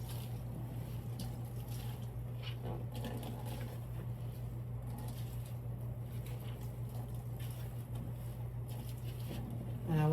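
Water from boiled cabbage poured through a colander, a steady faint trickling patter over a constant low hum, continuing without a break.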